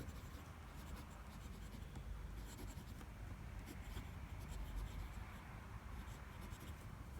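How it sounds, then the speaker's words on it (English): A Visconti Breeze fountain pen with a broad nib writes on paper, giving a faint, steady scratching close up and alone. "So you can hear that's a smooth nib."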